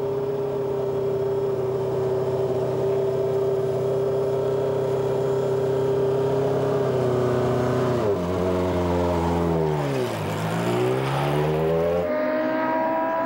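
A Renault Formula 1 car engine starts and accelerates slowly in second gear, a loud steady whine that dips as revs drop, then climbs sharply, then settles into a higher pitched note, close and without talk.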